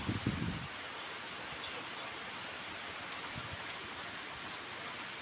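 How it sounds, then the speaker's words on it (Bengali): Heavy rain falls in Kolkata, a constant broad wash of rainfall with a brief nearby knock at the start. "দেখেছো কত বৃষ্টি হচ্ছে।"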